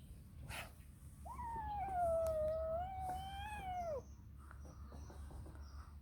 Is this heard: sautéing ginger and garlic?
no